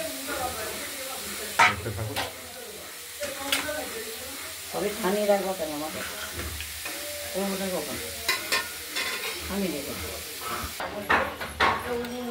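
Grated radish and vadi (sun-dried lentil dumplings), squeezed of water, sizzling and being stirred in a hot wok, with crackling frying noise and scraping of the spatula, while someone talks over it.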